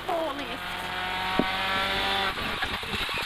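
A rally car slides its rear out while cornering downhill on a cold day, its engine droning steadily and loudly with tyre scrub and a sharp knock partway through, under talk.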